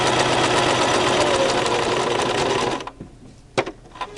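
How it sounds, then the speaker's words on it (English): A Brother LX3014 sewing machine stitches through five layers of a fabric face mask, running loud and steady for almost three seconds before it stops, followed by a few faint handling clicks. "So this is 5 layers it's sewing through"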